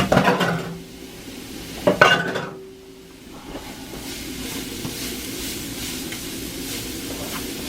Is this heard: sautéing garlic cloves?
yes